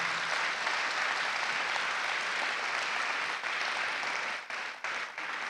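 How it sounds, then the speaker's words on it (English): A conference hall audience at a closing keynote claps in a steady, dense wash of applause that holds for several seconds before thinning near the end, with no talking over it. "Give yourself that round of applause"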